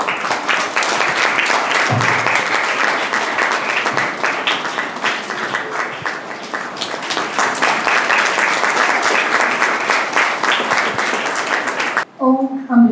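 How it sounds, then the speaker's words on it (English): An audience at a school investiture ceremony applauds the chief guest, loud sustained clapping filling a hall for many seconds before it cuts off and a voice begins speaking. "Let us express our heartfelt thanks with a warm round of applause."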